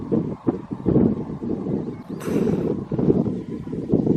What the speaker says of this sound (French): Un petit vent, ça fait du bien.